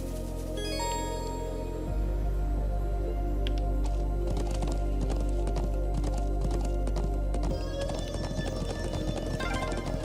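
Horses gallop in the video game Trails of Cold Steel, a dense, rapid clip-clop of hooves pounding steadily and loud under an engine-like low rumble and game music, with the hoofbeats dropping away near the end.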